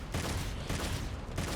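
Gunshots ring out in the action game Devil May Cry 5, coming in dense, loud bursts that repeat about every half second over a constant rush of game noise.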